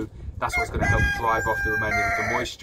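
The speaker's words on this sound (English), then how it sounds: "You can hear the cockerel in the background." A cockerel crows in the background outdoors near a home salmon smoker, a drawn-out call rising over the steady hum while someone talks over it.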